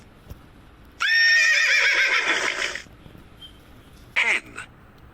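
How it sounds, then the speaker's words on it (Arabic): A horse neighs in a loud, close whinny lasting about two seconds, then a shorter second whinny follows after a pause, with no talk over it. "horse,"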